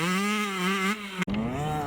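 A youth 65 or 85 cc motocross bike engine revs steadily through a corner. The note is loud and close, holding high on the throttle, then dips sharply for a moment before picking back up.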